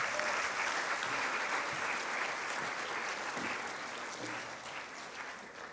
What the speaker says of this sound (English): Let's give her another round of applause again.